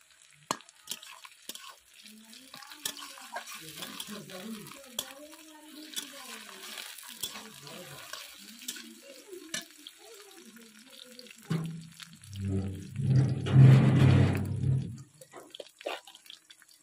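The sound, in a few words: stirring and frying onions, chopped tomato added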